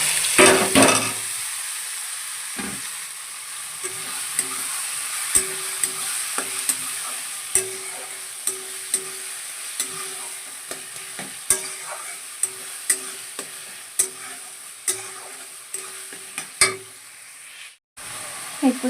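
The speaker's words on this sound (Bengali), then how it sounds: "এরপর দিয়ে দিচ্ছি পেঁয়াজ আর টমেটো কুচানো" Chopped onion and tomato hit hot oil after garlic has browned, producing a continuous close sizzle with regular spatula scrapes and clinks against the pan throughout.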